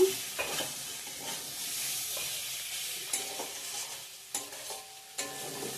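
Spice masala fries and sizzles in oil in a wok, with steady crackle and scrapes of stirring that come in intermittent strokes, close and alone.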